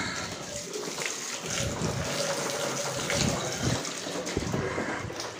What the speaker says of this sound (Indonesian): Ini begitu disiram air dia akan ngeluarin asap lagi.